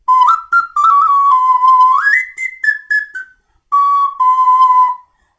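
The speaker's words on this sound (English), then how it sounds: "this little fish whistle" A small fish-shaped whistle bought at Pike Place Market in Seattle plays a bright, clear melody of sustained notes that slide up and down in pitch, loud and close, with a short pause before a final phrase; no talking.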